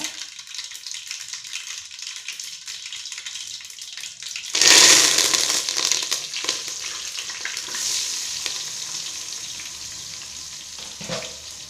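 Oil crackles and sizzles steadily, then a loud burst of frying erupts as dried chillies drop into the hot pan for tempering and keep spitting close by.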